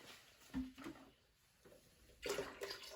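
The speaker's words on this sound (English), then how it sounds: "I'm gonna dump this in the toilet." Liquid from a bedpan poured into a toilet in a care setting, two short splashing pours a second or so apart, close and moderately loud.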